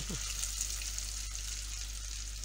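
Red cabbage frying with paprika in a pan gives a constant bright sizzle, with soft scraping as it is stirred, close and steady.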